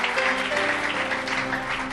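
An audience at a church gathering applauds in a brief, full burst of many hands clapping at once, close and steady, with no voices heard.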